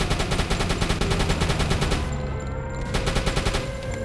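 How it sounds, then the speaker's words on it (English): An anti-aircraft gun firing during an air raid in the submarine game Uboat, heard as a rapid, steady stream of loud, evenly spaced shots with a short gap in the middle and no talking. "I got on the AA gun to get ready to defend myself."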